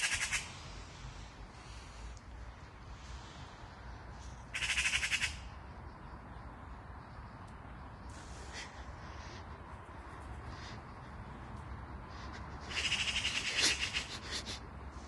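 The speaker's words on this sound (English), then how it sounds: "we're into the trees, birds singing, calling loudly" Birds in park trees in a quiet garden square squawk and call loudly, with bursts of harsh cries standing out against a steady background of fainter chirping, no one speaking.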